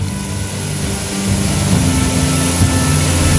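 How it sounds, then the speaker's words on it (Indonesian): Military aircraft take off from Halim Perdana Kusuma air base in Jakarta, a loud, close engine drone that swells and grows stronger over a few seconds, with steady tonal hum and no voices. "Kedua pesawat ini lepas landas dari Lanut Halim Perdana Kusuma, Jakarta"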